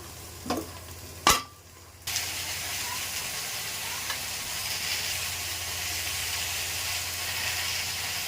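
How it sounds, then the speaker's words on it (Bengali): A couple of sharp crackles, then a steady broadband sizzle of green chillies frying in hot oil that continues evenly to the end. "দুটো কাঁচা লঙ্কা দিয়ে দিলাম তেলের উপরে"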